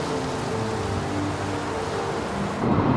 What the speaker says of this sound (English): And in typical fashion, it's raining.